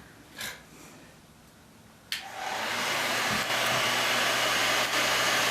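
A torch lights with a sharp pop and then roars steadily up close, heating a metal arm rail for bending; a short puff sounds just before ignition.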